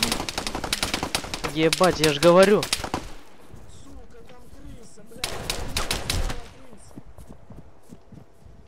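Rapid bursts of gunfire during a shootout in a village, crackling volleys of shots at close to middle distance, mixed with shouting voices and talk between the bursts.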